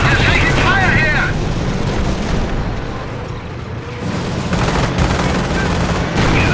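Company of Heroes real-time strategy battle set during Operation Market Garden: bursts of rifle and machine-gun fire with booming explosions rumble dense and loud, easing briefly midway before building again, with voiced unit callouts heard over the combat.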